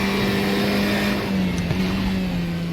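Steady buzzing KTM race car engine from the DDF Racer video game, holding a fairly constant pitch with a slight sag, running alone at moderate level under thin background hiss.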